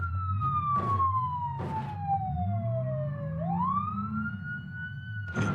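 A loud siren wails in long falling and rising sweeps, with repeated short bursts of noise cutting in and a low engine drone underneath.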